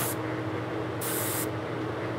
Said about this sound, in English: I started spraying away from the edges